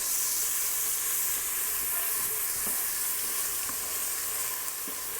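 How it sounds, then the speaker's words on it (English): Sofrito sautés in an Instant Pot with a loud, continuous hissing sizzle, close up, and a few faint stirring knocks underneath. "I'm gonna also go ahead and add my 2 things of sofrito. I'm just gonna saute it really quick."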